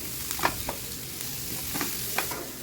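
Cauliflower and onion sizzling in a pan with a soft, steady hiss, broken by a few scraping stirs of a spatula against the pan.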